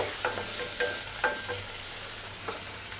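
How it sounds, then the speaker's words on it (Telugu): Okra fries in a pan under a soft, continuous sizzle while a utensil stirs it, scraping and clinking against the pan a few times. "చూడండి ఎంత బాగుందో కలుపుకుంటున్నాయి మంచి ఇప్పుడు కొంచెం ఫ్రై అవ్వాలి"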